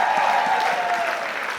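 Concert audience applauding steadily after an electric guitar solo, a dense continuous patter of many hands at moderate loudness with no talk.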